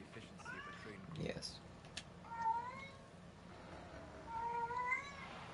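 A female cat in heat meows repeatedly in drawn-out, wavering cries, quiet and somewhat distant, behind a low background of game audio and room noise.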